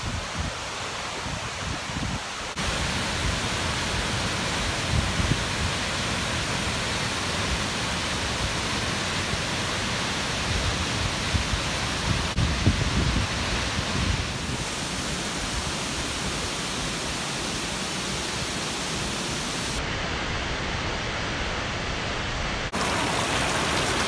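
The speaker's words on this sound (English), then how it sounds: "I know there's beautiful waterfalls in the world, but this is pretty spectacular." Whangarei Falls, a large waterfall, roars as a steady, dense wash of broadband noise, constant and close throughout with no talk over it.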